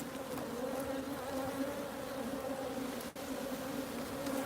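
Honey bees drone steadily at a beehive, a dense continuous buzz held close and loud for the whole stretch with only a brief dip near the end.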